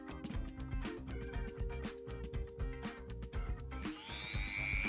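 A small abrasive sander of about 300 grit whirs against a cast silver pendant, close and steady with rapid grinding pulses, rising to a higher-pitched whine near the end.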